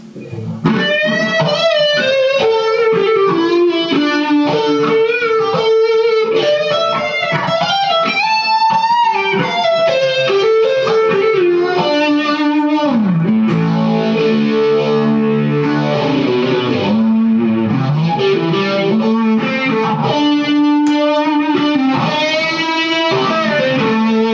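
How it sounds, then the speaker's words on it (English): A sustained, heavily effected electric guitar lead through Catalyst, OCD, phaser and chorus, with a swirling, modulated tone, playing melodic lines continuously at high volume with no talking. "Catalyst, OCD, phaser, chorus gives a huge sort of lead tone"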